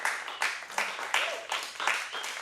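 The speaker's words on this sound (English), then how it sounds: "Please give them a round of applause and a welcome." An audience applauds at a live Austin music talk show as the host welcomes two guests, a steady wash of clapping with rhythmic surges, fairly close and moderately loud.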